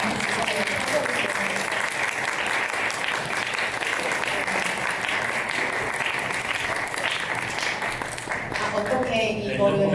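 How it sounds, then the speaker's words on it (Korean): A theatre audience claps for the sound and stage crew after an experimental music-theatre performance, sustained dense applause that carries on evenly for about ten seconds before tapering off near the end. "박수를"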